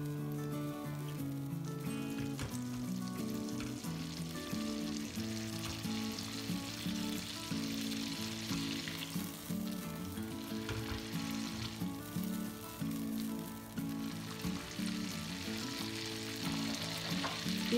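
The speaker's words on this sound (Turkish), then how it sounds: "Şimdi şöyle tereyağımızı güzelce eritelim." Butter melts in a pan for a yogurt soup, making a soft, steady sizzle and frying crackle that runs throughout with no talk.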